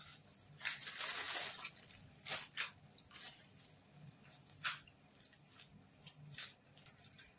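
Date dough with clarified butter and sesame being kneaded by hand, heard as irregular wet squishes and sticky slaps, close and fairly quiet, with gaps between presses.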